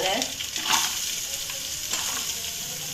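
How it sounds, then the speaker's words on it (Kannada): Ginger garlic paste and onions frying in a pan for soybean gobi, a steady close sizzle with a few brief stirring scrapes, no voices. "ಫ್ರೈ ಮಾಡ್ತೇವೆ ಶುಂಠಿ ಬೆಳ್ಳುಳ್ಳಿ ಪೇಸ್ಟ್ ಪಾಡ್ತೆ"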